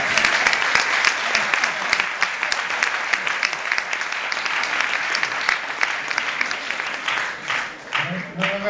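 Sustained audience applause fills a hall at a public talk in Milan, a dense, steady wash of many hands clapping that thins slightly toward the end as a voice begins to emerge.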